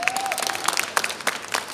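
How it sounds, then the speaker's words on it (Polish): An audience applauds briefly for the animals and a parrot after a family show, with scattered, uneven claps over about two seconds. "Wielkie brawa jeszcze raz dla naszych zwierząt"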